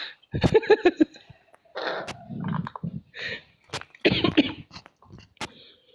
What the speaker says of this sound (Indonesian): Jangan batuk.